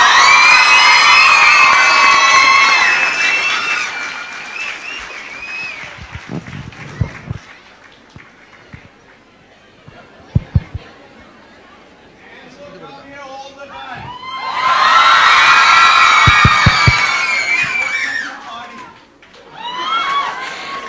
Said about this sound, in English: I can hear the crowd going, you know, wow, wow.